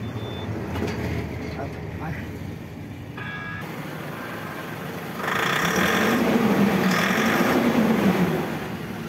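A Tata 1512 LPT BS6 sleeper-cab truck idles after starting. The diesel engine makes a low, steady rumble that grows louder partway through, with a brief beeping and some cab rattles, and no clear speech over it.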